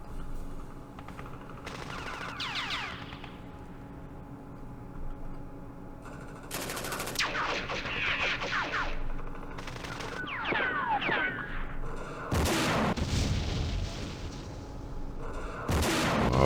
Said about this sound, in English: the blasted machine gun is doing a number on us